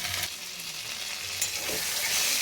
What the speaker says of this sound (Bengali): খুব বেশি লাল লাল করে ভাজবো না মিডিয়াম ভাজবো